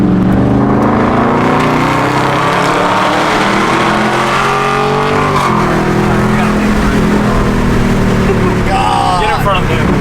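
A widebody Dodge Scat Pack's engine roars loudly and close, its pitch rising and falling as it revs on downshifts, while people talk over the noise inside the car.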